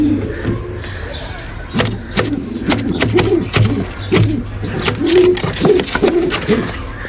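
Young pigeons in a loft coo and murmur in repeated low bursts nearby, with occasional knocks and shuffling in the background.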